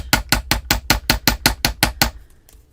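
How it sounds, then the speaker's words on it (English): Metal earring wire is hammered evenly on a hard surface, about ten sharp, regular close strikes in quick rhythm, then a brief pause and a faint tap. "And I'm going to evenly hammer all the way around."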